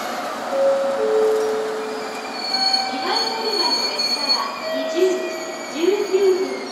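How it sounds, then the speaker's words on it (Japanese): A 783 series limited express train, the Sonic, at Hakata Station, its wheels squealing in long high tones over a low rumble, heard close alongside station ambience and someone talking. "783系特急電車"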